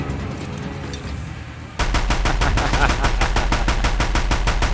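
Rapid automatic gunfire in the Horizon Zero Dawn video game, a steady burst of evenly spaced loud shots starting abruptly after a quieter stretch and continuing to the end.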